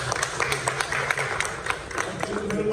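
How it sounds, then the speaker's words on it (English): An audience applauds a speaker at a news event, with dense, steady clapping from a crowd nearby throughout. "I think you deserve a good round of applause"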